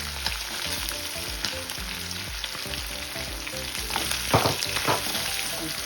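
Onion fries in a pan for a spaghetti with chicken and tomato sauce, a continuous close sizzle and crackle with occasional stirring scrapes, and no talk.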